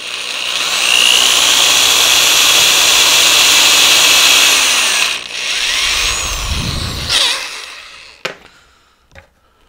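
Power drill boring a hole through a plastic lawn flamingo, a loud steady whine for about five seconds that winds down, then a short second burst and a few sharp knocks and clatters as it stops.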